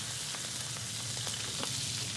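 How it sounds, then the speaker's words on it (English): Shrimp and squid sizzle steadily in hot lard in a wok at a Thai street food stall, a dense, constant frying hiss with faint crackles throughout. "she adds those shrimp, just sizzles them down"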